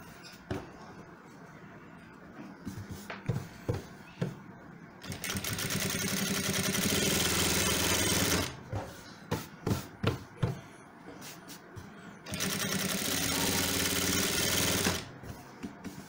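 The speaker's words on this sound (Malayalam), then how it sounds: "അപ്പോൾ ആ എഡ്ജിൽ കൂടി ഒന്ന് തയ്ച്ച് കൊണ്ടുവരിക." A sewing machine stitching along the edge of a men's shirt while joining the front and back panels, running in two long steady bursts separated by short clicks and handling noises.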